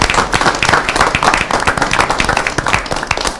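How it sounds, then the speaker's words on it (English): Crowd applause for telecommunicators at a city council meeting, dense sharp clapping from many hands, loud and sustained for the whole stretch with no talk over it. "How about a round of applause for our telecommunicators?"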